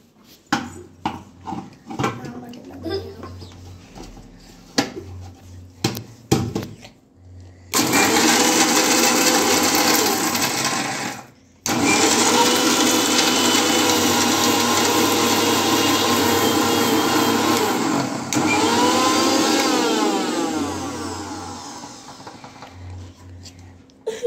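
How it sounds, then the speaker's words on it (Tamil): Several short clattering bursts of a mixer grinder, then two long loud whirring runs of the motor grinding hard biscuit pieces, with a brief pause between. "இப்போ மிக்ஸியில் அரைக்கலாம்."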